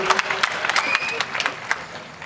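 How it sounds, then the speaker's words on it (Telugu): A crowd at a folk song gathering at Osmania claps loudly in a brisk, uneven burst, with a voice calling over the applause and sharp individual claps standing out. "గట్టిగా చప్పట్లు."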